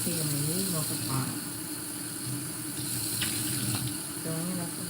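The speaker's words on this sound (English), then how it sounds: "filling it up with water" Tap water runs steadily into a mocha pot at a kitchen sink, a continuous hiss and splash heard under an ongoing voice that speaks throughout.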